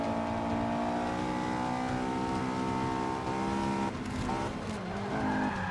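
A car drifting in the Forza Motorsport 5 racing game: a revving engine roars steadily while tires squeal and skid throughout, loud and close with no voices.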